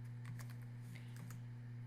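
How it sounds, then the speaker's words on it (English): Rapid typing of credits on a computer keyboard, steady close clicks of keys over a constant low electrical hum. "type in what you want to have credits"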